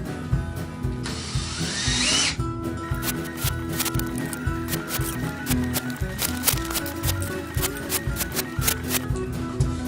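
Power drill driving screws into wooden growing troughs on a homestead, a steady close whirring with a brief high-pitched burst near the start and rapid clicking and rattling throughout.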